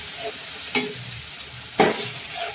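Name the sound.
ginger, garlic and green chili paste frying in butter with onion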